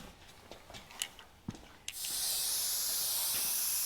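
Spray paint can hisses on a repaired front end, a few faint taps and handling sounds first, then a loud, continuous close-up spray burst for the last two seconds.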